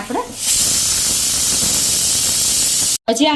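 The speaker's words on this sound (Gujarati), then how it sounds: "ખાટી મીઠી ચટણી ઉકળે છે" Sweet and sour chutney, sugar and red chili stirred in, boiling in a pan: a steady loud hiss of bubbling and steam runs nearly unbroken throughout, with a brief cut near the end.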